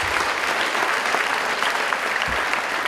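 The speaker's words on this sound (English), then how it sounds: "Let's give her a round of applause and thank you." Applause from the audience at a school alumni awards assembly, a full, even clatter of many hands clapping for a few seconds with no break.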